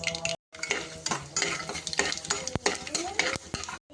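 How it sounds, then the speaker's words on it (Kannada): Chana dal dropped into hot oil for tempering, crackling and sizzling loudly with bursts of spattering and clinks of a spoon stirring against the pan, close and busy throughout with no talk. "ಸ್ವಲ್ಪ ಚಟಪಟ ಅಂದು ಈ ಥರ ಚಟಪಟ ಅಂತ ಸಿಡಿಬೇಕಾದ್ರೆ ಸ್ವಲ್ಪ ಕಡಲೆಬೇಳೆ ಹಾಕ್ಕೊತೀನಿ"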